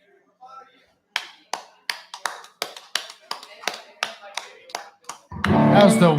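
Weak, scattered clapping from a small comedy-show audience: about a dozen separate claps in a sparse, uneven rhythm, close and fairly loud, ending in a sudden burst of louder noise.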